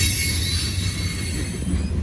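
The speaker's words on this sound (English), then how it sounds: "Hey, there's another train coming on track 2." Train rolling past on the track at close range, a loud continuous rumble with steady wheel noise and a faint squealing whine, no talking.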